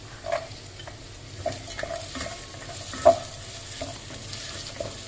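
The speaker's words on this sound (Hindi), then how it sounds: "अब इसमें काजू ऐड कर देंगे" Cashews, nine or ten of them, fry in a pan with ginger-garlic paste for butter chicken, a quiet continuous sizzle broken by occasional light scrapes and taps of a spoon.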